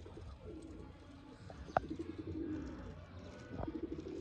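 Soft, low Sialkoti pigeon coos drift in and out over a quiet outdoor background, with a couple of brief sharp knocks.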